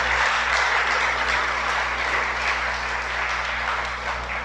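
A congregation at a Shabbat service applauds, a thick, continuous roar of many hands clapping at a steady level over a low constant hum throughout.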